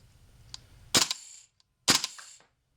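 Two sharp, close pops about a second apart come from a KWA LM4 airsoft rifle firing, each a crisp snap with a short tail, in an otherwise quiet room.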